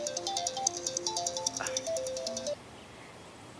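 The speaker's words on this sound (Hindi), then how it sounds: "कब से शोर मचा रहा है तेरा फोन?" A mobile phone ringtone plays a bright, repeating melodic tune for about two and a half seconds, then stops abruptly, leaving a quiet room.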